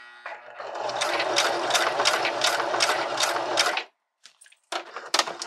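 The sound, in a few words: sewing machine stitching a bra hook and eye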